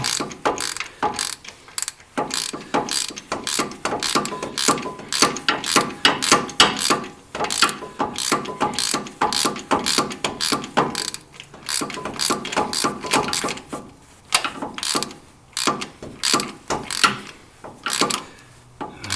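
A ratchet wrench tightens a bolt on a Nissan oil cooler during an O-ring replacement on a Frontier, Xterra or Pathfinder, giving a long run of rapid, loud pawl clicks in bursts with brief pauses.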